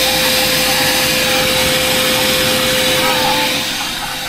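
A vacuum cleaner runs on car floor mats, a loud, steady close-up suction roar with a constant pitched whine that eases slightly toward the end, with a voice talking over it.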